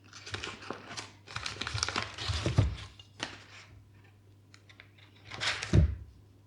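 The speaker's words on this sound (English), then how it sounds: "And just pop that on some cling wrap." Cling wrap crinkles and rustles close up while a pudding bowl is lined with it, in irregular soft bursts with quiet gaps and a couple of louder handling thumps.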